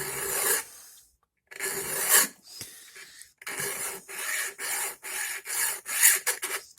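A hand file rasps back and forth across a steel knife blade near the heel, cutting a sharpener's choil, in close, loud scraping strokes with brief pauses between them.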